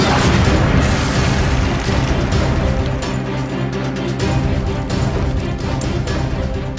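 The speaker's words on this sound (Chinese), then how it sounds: "老了的，连炮都用上了" Heavy artillery cannon fire in a war drama, a sustained rumble of booms and blasts, loud and dense with repeated impacts running throughout.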